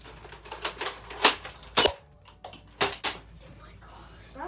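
A Cycloneshock Mega Nerf blaster fires several sharp, close snaps at irregular intervals, each a quick burst separated by short pauses.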